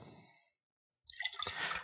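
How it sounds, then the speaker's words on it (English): Apple cider vinegar poured into a pitcher for a Pennsylvania Dutch hot bacon dressing, a brief close splashing trickle of liquid that follows a short silence, with no talk. "We're gonna start off with apple cider vinegar."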